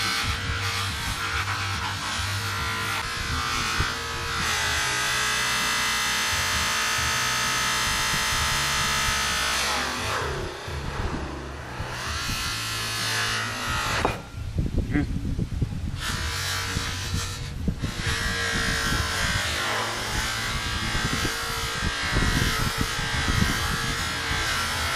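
A motor-driven buffing wheel spinning against metal loaded with polishing compound, a steady close whirring drone whose pitch sags and recovers as pressure changes.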